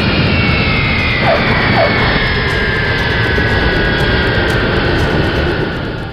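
An airliner on Western Airlines Flight 2605 touches down at about 130 knots on runway 23L. Its jet engines give a loud, continuous, close roar that holds steady throughout, with no voices.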